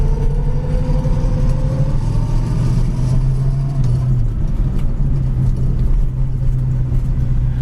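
A 1966 Ford Mustang coupe with a three-speed manual cruises at highway speed around 60 mph, its engine a steady loud low drone with road rumble and a slight pitch shift partway through, no voices.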